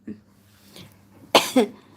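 A person coughs a few times, a short rough cough followed by a louder double cough near the end, close to the microphone in a quiet room.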